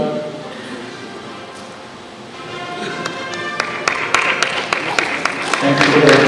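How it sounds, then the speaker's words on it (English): Applause from the audience at an industry awards ceremony. It starts quietly, swells into sustained clapping with sharp individual claps that grow louder toward the end, and voices can be heard over it. "Thank you for the applause."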